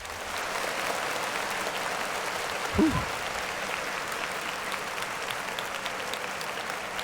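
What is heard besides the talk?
applause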